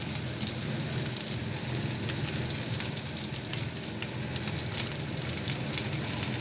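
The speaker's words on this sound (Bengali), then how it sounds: "তো আমি এটা পেঁয়াজ কেটে রেখেছি, এই পেঁয়াজটা এতে আমি দিয়ে দিয়েছি।" Chopped onion frying in hot oil with panch phoron spices in a pan, a dense continuous sizzle close up, steady and loud with no talking.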